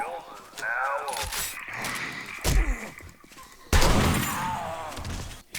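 Shotgun in 7 Days To Die on a Blood Moon night, two heavy booming blasts a second or so apart, with a voice talking around the shots.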